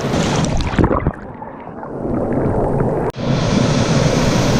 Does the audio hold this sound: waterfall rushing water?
yes